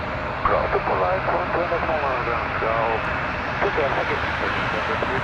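Steady engine roar from an Embraer 175 airliner, Jazz flight 556, at Toronto Pearson, continuous and fairly loud, with speech over it throughout.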